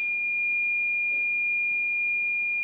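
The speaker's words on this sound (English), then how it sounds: "And there goes my timer." A timer gives a steady, continuous electronic beep that holds one unbroken tone for the whole stretch, loud and alone, with no talking.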